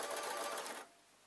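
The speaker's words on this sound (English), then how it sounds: "I can continue to sew along the top of the muffler." A sewing machine stitches along the top of a fabric muffler with a strap sewn in, a steady fast whirring hum that runs close and loud, then cuts off abruptly before a quiet end.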